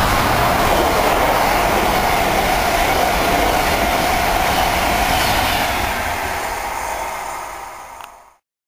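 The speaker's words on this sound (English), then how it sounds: "here comes another London bound Mark 3 set now." A London-bound Mark 3 passenger train rushes through Needham Market station with a loud, close, continuous roar and rattling wheels that slowly fades away as it departs.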